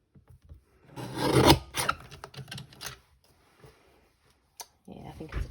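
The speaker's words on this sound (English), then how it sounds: "Get out my mini trimmer." A mini paper trimmer's blade slides through cardstock in one short, rasping cut, followed by a few quieter scrapes and taps in an otherwise quiet room.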